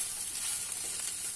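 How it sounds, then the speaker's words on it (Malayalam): Crushed prawns sizzle steadily as they are stirred into ivy gourd frying in a pan, a continuous close hiss with no talk over it. "ചതച്ച ചെമ്മീൻ അതിനകത്തേക്ക് ഇളക്കി കൊടുക്കാം."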